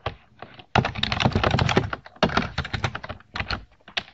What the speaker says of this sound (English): Type your comment in the provided text area